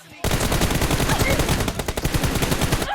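Rapid automatic gunfire from the mobile battle-royale game PUBG Mobile in a team deathmatch arena, a dense, loud stream of shots running nearly unbroken through the moment before cutting off abruptly.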